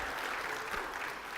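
A church congregation claps for its high school students during a Sunday service: a brief, fairly soft patter of many hands, steady and unbroken, with no talking.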